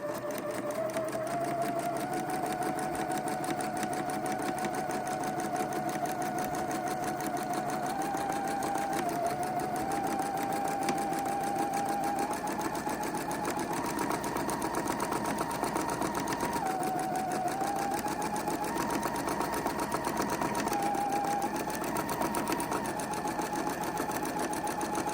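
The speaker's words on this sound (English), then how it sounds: "we're just using our 1/4-inch foot and sewing this right up" Sewing machine running steadily with a quarter-inch foot, stitching a seam in apron fabric; a continuous close mechanical whir that shifts speed slightly, alone without talk.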